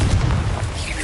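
A Confringo spell blasts in Hogwarts Legacy combat, producing a loud, deep booming burst that fills the short moment with heavy rumbling noise.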